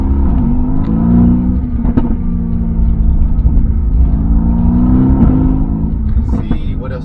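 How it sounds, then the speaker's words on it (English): A 2016 Mercedes-AMG GT S pulls hard from a standstill toward 60 mph, its engine a loud close rumble rising through the gears, with brief dips at the shifts. A person talks over it. "I think we're gonna do a small 0 to 60 pull"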